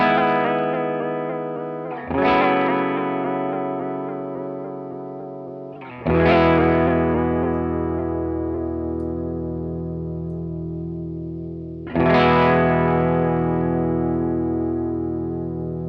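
An electric instrument played through a Chase Bliss Warped Vinyl modulation pedal set to square-wave modulation, three sustained chords struck at intervals, each ringing out with a wavering, pulsing chorus-like tone and slow decay, no voices.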